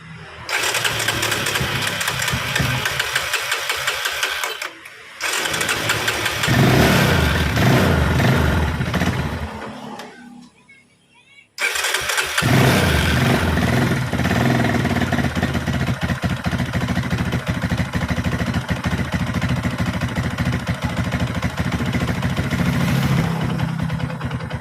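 Yamaha Scorpio motorcycle engine cranked with the choke on, catching and running loudly up close, dropping out briefly, then restarting and settling into a steady rough idle.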